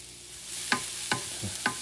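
Cauliflower rice cooking at high heat in a pan under a steady sizzle, with about four sharp spatula scrapes at a moderate pace. The sound is close and no one speaks.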